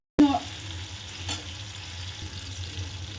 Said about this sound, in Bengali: ভালো করে আমি নেড়ে চেড়ে একটু ভেজে নেব যতক্ষণ না টমেটোটা নরম হয়ে যাচ্ছে।